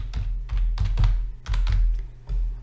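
Computer keyboard typing into a Windows search bar: a close, quick run of soft key taps in small clusters with brief pauses.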